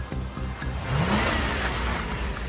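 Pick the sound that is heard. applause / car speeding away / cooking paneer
car speeding away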